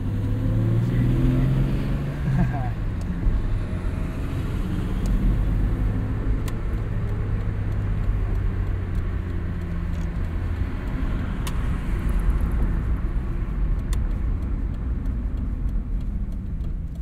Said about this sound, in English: inline engines, they just have a unique noise